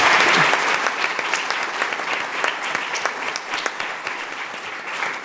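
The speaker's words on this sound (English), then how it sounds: "So give yourselves a round of applause" An audience at a nurses' panel event applauds, with dense, continuous clapping that starts loud and holds steady for about five seconds with no talk over it.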